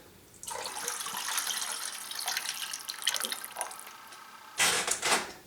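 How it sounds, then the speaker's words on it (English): Orange juice pours into a pot of pork and broth for carnitas, a steady liquid splashing stream running for several seconds, close and fairly loud, then a brief louder splash near the end. "We'll add the orange juice."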